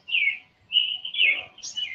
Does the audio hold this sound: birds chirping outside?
yes